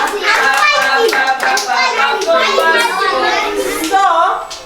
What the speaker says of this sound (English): All of you clap for passport.